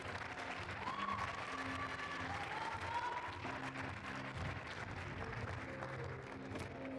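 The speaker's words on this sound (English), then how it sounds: "Let's give them a big round of applause" An audience applauds the unbeaten team at the Platinum Ladies League grand final, steady distant clapping under a low musical hum with tonal lines running through it, fairly quiet and continuous.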